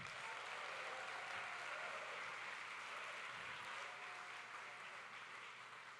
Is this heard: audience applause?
yes